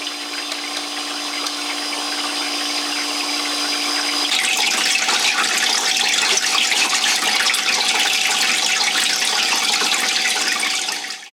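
Water runs steadily through an ice machine during its ice-making cycle, a continuous pumping and splashing flow that grows fuller and louder partway through and stays close and constant, with no talking.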